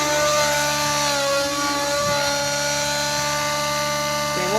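A nitro RC helicopter hovers in 3D idle-up mode, its steady high-pitched engine whine and rotor drone holding constant and loud throughout, with slight pitch wobble near the end.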